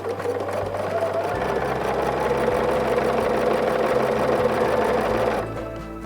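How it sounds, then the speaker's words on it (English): A sewing machine runs steadily, chain stitching quilt pieces together in one continuous close whirring burst that eases off near the end. "And I'll just chain stitch these."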